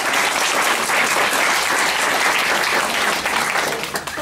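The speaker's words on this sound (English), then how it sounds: "Give Jane a round of applause" Loud, sustained round of applause from an audience at a talk on natural hormone balancing, dense and even clapping throughout that begins to thin just at the end.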